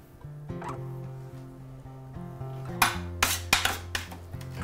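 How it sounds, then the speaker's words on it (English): A spoon scrapes and taps against a serving dish while pork juices, blackberries and rosemary are spooned around it. Close clinks and knocks come in a loose cluster toward the end. "I'm just gonna spoon them all around."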